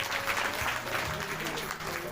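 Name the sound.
audience clapping at a temple gathering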